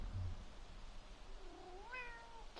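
A cat gives a single drawn-out meow that rises and then falls, faint and alone against a quiet background hiss.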